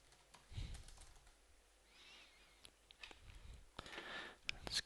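Faint, sparse typing on a computer keyboard during a coding session, with scattered soft key clicks at an uneven pace.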